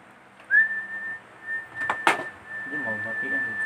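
A person whistling a sustained steady tone during a seven-second challenge, close and clear, with a brief clatter midway and people talking quietly underneath toward the end.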